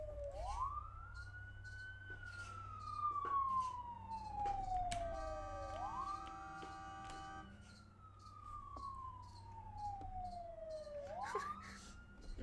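A police car siren in a driving video game wails in long rising and falling sweeps, repeating three times at a moderate distance over a low engine hum.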